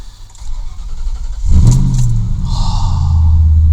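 A cold Ford Crown Victoria P71 engine cranks and catches about halfway through, then settles into a loud, steady low idle close by, with no talking over it.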